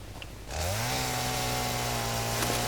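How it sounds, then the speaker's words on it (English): A biofuel-powered chainsaw in the video game Satisfactory revs up from a low idle into a steady, loud, droning buzz while felling trees, running continuously with no talk over it. "Let's go chop up all the trees over there."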